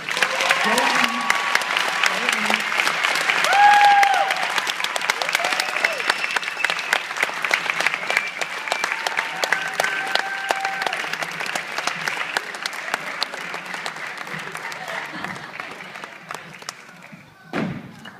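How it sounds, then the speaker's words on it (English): An audience gives a round of applause for founding members of a group, sustained dense clapping with a few whistles and cheers, tapering off toward the end, followed by a brief thump. "give them a round of applause"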